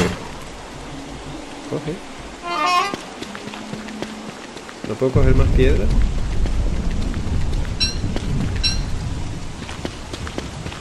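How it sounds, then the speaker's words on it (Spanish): Rain in the Don't Starve Pocket Edition mobile game, starting as a light patter and becoming a loud, steady downpour partway through, while someone speaks Spanish over it. "Cuando me llueve."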